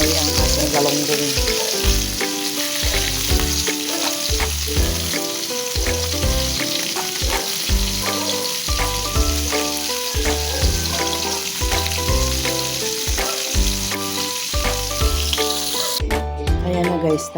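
Galunggong fish frying in a pan with hot oil, a loud continuous sizzle and crackle throughout, with background music over it and a brief sharp change near the end.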